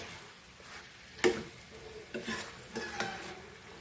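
Goan sausage and prawns cooking in a pan, a soft steady sizzle broken by a few sharp stirring scrapes and clicks of a spoon against the pan.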